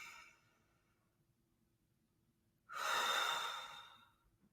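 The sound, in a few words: slow breathing in and out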